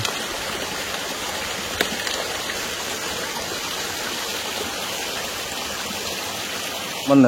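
A mountain spring-fed stream at the Nambi spring on the Anjasmoro trail rushes continuously and evenly, a steady close wash of water with no talking.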